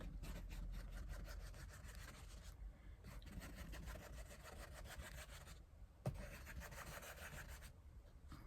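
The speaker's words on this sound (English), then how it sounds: "And we'll just start scraping." Paint being scraped across a gluebook page with a card, a faint continuous rasping rub in rapid strokes with brief pauses and one sharp tap near the end.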